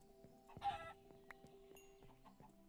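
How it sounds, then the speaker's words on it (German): Minecraft chickens clucking in the game, several short clucks and squawks scattered over a quiet background. "Und überall immer noch diese scheiß Hühner."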